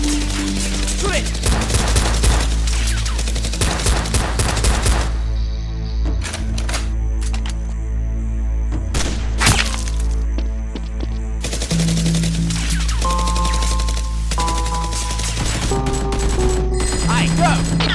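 Toy Nerf guns fire rapidly during a staged gun battle, a dense mix of clattering, snapping bursts and mechanical clicks, loud and close, with brief shouting voices in between.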